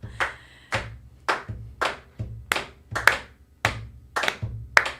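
Hands clap in a steady, rhythmic pattern of about nine crisp claps to welcome new patrons, close and clear with a faint low hum underneath.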